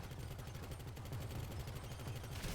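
Automatic gunfire in GTA V rattles in rapid, continuous bursts, faint and distant-sounding, with no speech over it.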